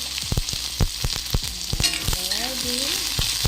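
Onion and green chili frying in hot oil for masala Maggi, crisp crackling sizzle with a series of sharp stirring clicks against the pan, close and fairly loud, with a brief squeaky tone partway through and no talking.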